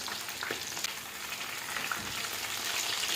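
Chicken kababs fry in a pan over a low gas flame, giving a steady close sizzle and crackle with small pops throughout and no talking.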